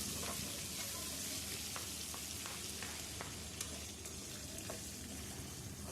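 Onions, green chillies and curry leaves frying in hot oil give a steady, soft sizzle with faint crackles and stirring taps, close and without voices.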